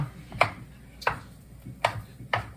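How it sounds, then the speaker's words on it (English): Four spaced knife chops strike a cutting board at a slow, steady rhythm as tomatoes are diced, close and crisp, with no talking. "I'm just gonna kind of start dicing them up"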